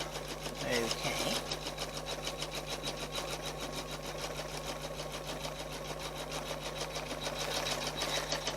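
Embroidery machine stitching out a fabric-and-batting mug rug runs with a fast, steady mechanical chatter of needle strokes throughout, close and continuous, with a person talking over it.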